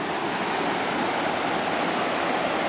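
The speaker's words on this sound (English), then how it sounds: "Sound of a little waterfall over here." Steady rushing water fills the clip, a constant broadband splash like a small waterfall close by, with no voices.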